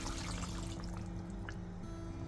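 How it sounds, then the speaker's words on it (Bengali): Water being poured into a Bengali fish curry simmering in a pan, a steady close trickle and pour running throughout over a low kitchen hum. "আর এটা ধুয়েও একটু জল দেব মাছে"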